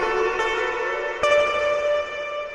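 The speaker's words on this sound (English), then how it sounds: "It might have its uses doing a spring reverb." Sustained electric guitar notes ring through a spring reverb, with a wash of reflections and slapback, and two fresh plucks land over the lingering decay.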